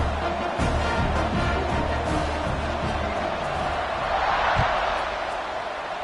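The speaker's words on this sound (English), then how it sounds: "this crowd is buzzing after that last score." Stadium crowd buzzing after a score in a college football video game, a loud sustained murmur with scattered thumps and a swell of cheering midway, under faint commentary.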